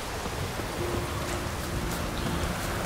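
Steady rain falls in a chilly, frosty setting in The Witcher: Wild Hunt, a continuous, even hiss of drops with a faint low tone running underneath.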